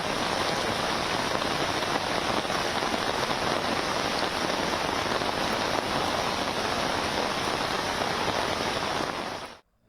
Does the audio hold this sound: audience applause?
no